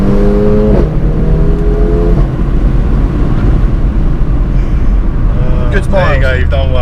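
A Mercedes A45 AMG engine with a Remus exhaust and intake roars steadily at high volume from inside the car, with pitch sweeps near the start and end as it revs.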